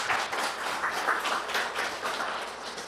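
A church congregation at a Christmas worship service applauds together, a steady, moderately loud wash of clapping that holds evenly for a few seconds with no talking.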